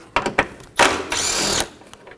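A power tool on a 10mm headlight bolt of a Nissan Maxima: two short bursts, then a longer whirring run, close and loud, with no talking.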